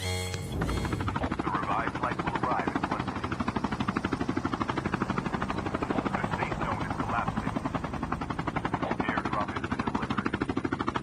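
A helicopter in Call of Duty: Mobile, heard during a tournament match, throbs with fast, steady rotor chop that stays loud and close throughout, with a commentator talking over it.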